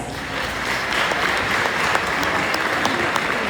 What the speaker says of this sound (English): please give yourselves a well-deserved round of applause